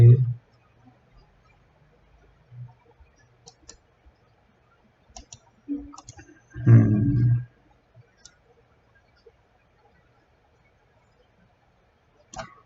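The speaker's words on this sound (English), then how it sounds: "So I'll click on the child node here." Computer mouse clicks in a 3D software interface, a few scattered sharp clicks with quiet gaps between them and a soft voice murmuring briefly.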